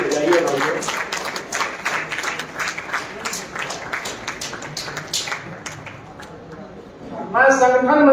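Audience at a literary festival session in Haridwar claps in a dense, steady round of applause, loud and sustained for several seconds before a voice begins speaking at the end.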